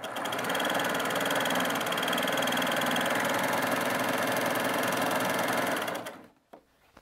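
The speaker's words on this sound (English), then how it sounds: "So I'm going to go ahead and sew the swing stitch." Baby Lock Primo coverstitch machine sewing a decorative swing stitch, a steady loud mechanical whir running continuously for about six seconds before stopping abruptly, followed by a faint click.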